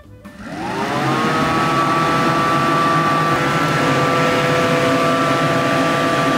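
A Peugeot 205 heater blower spins up and settles into a steady, loud rush of air with a constant motor whine, running alone without voices.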